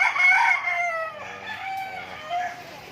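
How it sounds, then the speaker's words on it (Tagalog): A rooster crows loudly nearby, a drawn-out call followed by softer clucking and another short crow from the flock. "yung aming mga lalaking mga manok"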